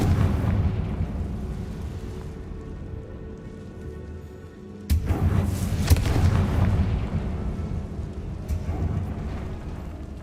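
The Bombarda and Confringo explosion spells are cast in Hogwarts Legacy, giving a deep rumbling roar that swells suddenly partway through and then continues with crackling bursts over a low, steady drone.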